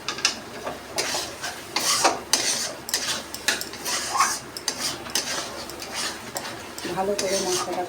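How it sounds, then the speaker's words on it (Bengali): Spice masala frying in a pan while a spoon stirs it, giving repeated metallic scrapes and clinks against the pan at an uneven rhythm, close and fairly loud, with a soft voice now and then. "ভালো করে মশলাটা কষিয়ে নেব"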